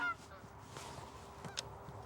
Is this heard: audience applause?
no